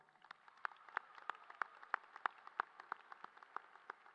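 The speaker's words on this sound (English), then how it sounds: "If we could give them a nice round of applause." Faint, distant applause at a high school graduation for the people who read the graduates' names, with steady, evenly spaced claps heard from a distance.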